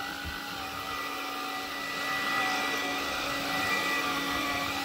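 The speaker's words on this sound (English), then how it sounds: "Now, I'm going to vacuum this area right here." A Hoover cordless vacuum cleaner runs steadily on carpet, giving a close, loud, continuous motor whine with a constant hum that swells slightly partway through, heard alone without talk.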